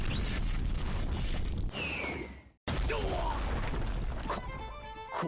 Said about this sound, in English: Sounds of explosions precede tremors that shake the building.